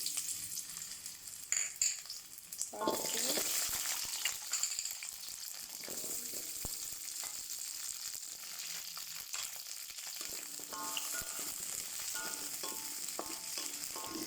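Ginger sizzles and crackles in hot oil, a steady frying hiss with occasional stirring clatter, fairly close and continuous.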